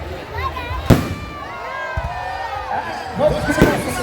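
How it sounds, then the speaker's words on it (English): Fireworks in Morant Bay, St. Thomas, Jamaica: two sharp bangs stand out over a busy crowd and street noise, with people talking throughout. "Let's get the fireworks."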